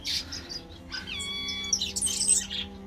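Tanzanian blue-capped cordon-bleu chicks, just taken from their nest, cheep in thin, high, rapid bursts, several voices overlapping close by with a quieter stretch between calls.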